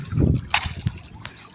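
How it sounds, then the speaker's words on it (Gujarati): Water gushes from a farm pump on a Gujarat farm, making a short burst of splashing and trickling up close, with a few brief spatters as it settles. "હે અમારા જયપાલભાઈ હવે પાણી ઘણું કાઢે"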